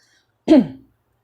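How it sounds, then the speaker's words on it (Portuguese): One short, gruff throat clearing, close and loud, surrounded by silence. "Acordei com um pigarro chato hoje."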